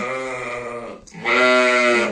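Two ewe bleats in a row during lambing, a long wavering cry followed by a brief gap and a louder, brighter second bleat, close by.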